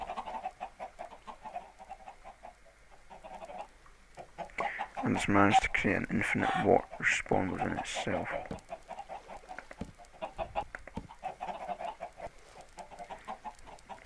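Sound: chickens clucking in Minecraft video game

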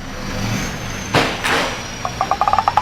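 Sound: car rocked by hand at rear wheel to test shock absorbers

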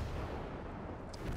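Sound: tank gun shot in video game Armored Warfare

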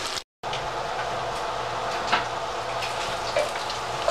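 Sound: bacon sizzling in a skillet

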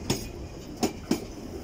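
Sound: London Underground trains at Cockfosters depot

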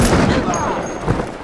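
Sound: gunshot in the movie Black Panther

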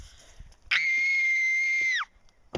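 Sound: scream

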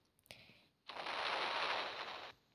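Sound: explosions in Roblox game Brookhaven

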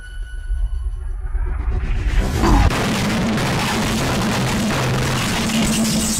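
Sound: cannon firing

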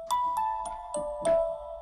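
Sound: music box sample instrument playing

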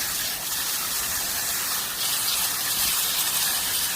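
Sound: water sprayed onto succulent plants

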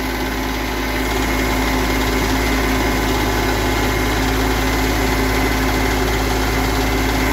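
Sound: Kioti CS2510 tractor engine idling after a cold start

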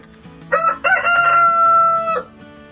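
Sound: rooster crowing

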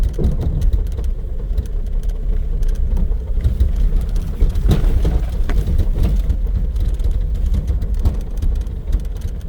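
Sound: car driving to the fishing spot

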